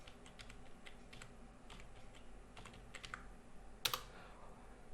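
Computer keyboard typing during AutoCAD command entry, a quiet run of soft, irregular key clicks with one sharper tap near the end, close and alone.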